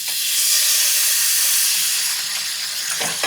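Steak searing in hot safflower oil in a pan, a loud, continuous broadband sizzle and hiss heard up close, steady throughout with a few brief pops near the end and no voices.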